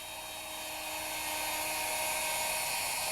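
A router cuts a dado straight through both sides of a workpiece while being guided along a fence, making a continuous high-pitched whine that rises slightly and holds steady, close and loud.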